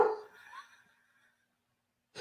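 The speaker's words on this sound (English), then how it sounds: "This dog is driving me nuts." A dog barks and yelps in a short burst that fades into silence, then barks again at the end, fairly close but muffled.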